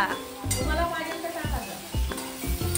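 Chopped onion and tiny dried shrimp (kolim), seasoned with red chilli masala, sizzle in a pan while a spoon scrapes and clinks against the metal in a repeated stirring rhythm, close and clear.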